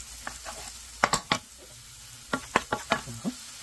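Onions and garlic sautéing in a pan for a fish dinner, with a low sizzle under sharp scrapes and clinks of a utensil stirring in short bursts.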